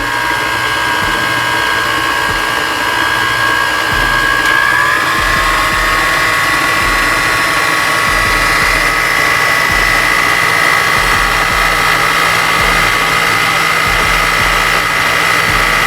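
An electric mixer runs steadily on a medium setting, beating cake batter with a loud, continuous whir and hum that holds throughout, with a slight pitch shift partway through.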